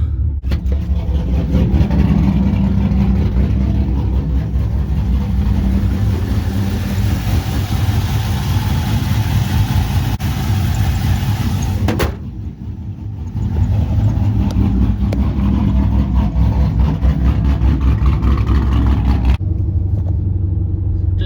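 A 2004–2006 Pontiac GTO with a newly replaced alternator cruises around town, a steady low engine rumble heard from inside the cabin with a brief dip in engine noise midway before it picks up again.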